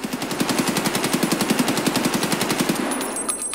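AKS-74U rifle firing full auto at long range in Escape from Tarkov, a fast even stream of about two dozen loud shots that stops near the end, leaving a brief ringing tail.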